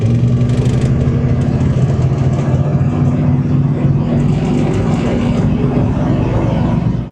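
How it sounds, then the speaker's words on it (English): A 1987 GMC Sierra 1500 Squarebody pickup rolls along with its engine droning and rumbling from the cab, steady and loud, with road and wind noise layered over the motor the whole way through. "this right here is a 1987 GMC Sierra 1500"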